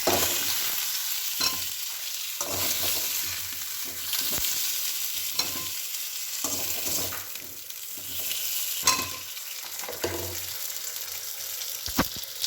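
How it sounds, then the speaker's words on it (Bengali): Potatoes fry in oil beside a pan of cooked spice masala, a steady close sizzle broken by repeated scraping strokes of a spoon stirring through the pan, with no voices. "এখানে মশলাও কষা হয়ে গেছে, আর এখানে আমি আলুগুলো ভাজতে বসিয়েছি"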